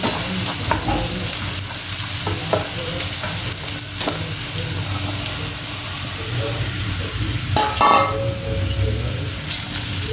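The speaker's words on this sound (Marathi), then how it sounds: "पहिले आपण साबुदाणा परतून घेऊ" Sago pearls being stir-fried with cooked potato in a pan for sabudana khichdi: a continuous close sizzle with frequent scraping and stirring clatter from the spatula, plus occasional soft pan knocks across the whole stretch.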